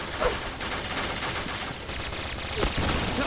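APC9 submachine gun fire in the Point Blank online shooter, a dense mix of game effects with a couple of sharper shot bursts standing out over continuous background noise.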